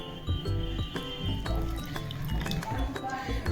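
Water poured into a bowl of mixed spices (dana powder and turmeric) for a radish and radish-leaf sabzi, giving a close liquid splashing and clinking against the vessel, with faint speech in the background.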